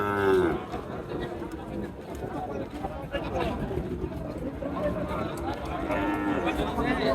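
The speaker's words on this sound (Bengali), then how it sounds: "এগুলো মূলত ষাঁড় বাচ্চা দর্শক।" Young bull calves moo at a rural cattle market, the lowing close and loud over a steady crowd murmur, with people talking throughout.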